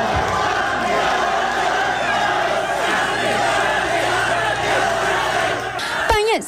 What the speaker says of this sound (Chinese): 等候已久的小草们兴奋地又叫又跳，民众党党工职们振臂欢呼